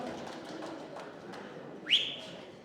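A single short rising whistle blast, blown at an outdoor livestock auction in Mooirivier, rises briefly above a steady murmur of crowd and background noise.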